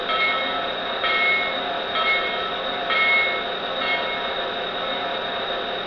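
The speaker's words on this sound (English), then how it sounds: "Here is the bell" A locomotive bell clangs in a steady rhythm, about once per second for six strikes, over a constant mechanical rumble.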